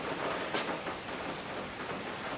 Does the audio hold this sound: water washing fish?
no